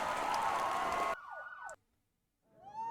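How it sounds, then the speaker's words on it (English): Police sirens wail after a burst of crowd noise cuts off, first a falling, sweeping siren, then silence, then another siren rising at the end, fairly close and clear. "Are those police sirens?"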